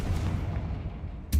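A single spell blast from Hogwarts Legacy: after a low rumbling build, a short, loud broadband boom bursts at the very end, close and alone with no talk over it.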